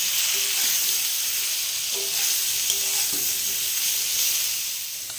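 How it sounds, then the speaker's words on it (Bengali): Potato pieces and drumstick stalks frying in a pan, a continuous close sizzling hiss with faint stirring scrapes, steady and then easing slightly at the end. "ডাঁটাটাও 1 মিনিট মতো ভেজে নেবো।"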